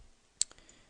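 A computer mouse gives a quick double click, two short crisp taps close together in near silence.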